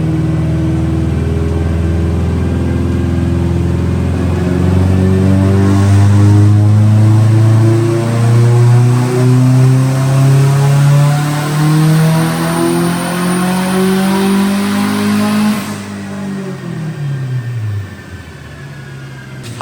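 A Mitsubishi Evo 8 being tuned runs a pull: a loud, sustained engine note climbs steadily in pitch for over ten seconds, then drops sharply as the throttle lifts, with the engine settling back toward idle.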